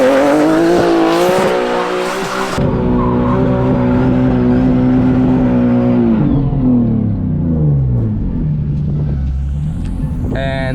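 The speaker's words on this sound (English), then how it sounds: "I'm just spinning the car." A Nissan 370Z engine revs hard as tires squeal and skid, the pitch climbing then sliding down, loud and close, repeating through the spin.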